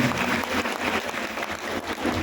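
A crowd claps steadily and fairly loudly at an outdoor BJP election rally in Kalachhara, Assam, ahead of panchayat elections. The applause is dense and continuous, with no voice rising above it.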